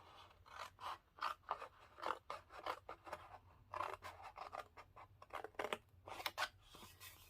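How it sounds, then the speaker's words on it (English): Scissors snip through papercraft card along a score line, a quick series of close, quiet crisp cuts and scrapes in an even rhythm with no talking. "I'm going to cut along this score line"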